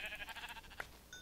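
Sheep in Minecraft, a short faint bleat in a quiet outdoor game scene, with a small click partway through.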